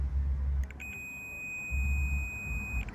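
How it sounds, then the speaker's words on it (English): A multimeter gives a steady continuity beep lasting about two seconds as two wires of a tailgate light harness touch, clear and close over faint background noise. "With the meter that I have, it will beep when you connect."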